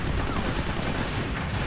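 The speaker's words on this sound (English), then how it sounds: "they're just shooting everything" Rapid gunfire fills an animated Warhammer 40K battle scene, a dense, continuous barrage of overlapping shots that stays loud and steady throughout the short stretch.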